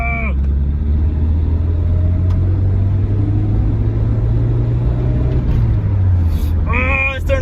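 A Nissan 240SX S13 with a freshly bled clutch merges onto a freeway, its engine a steady, loud, low drone. A voice speaks briefly near the end.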